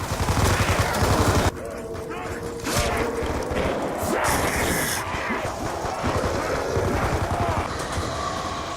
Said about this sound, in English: a random trying to shoot the zombies behind him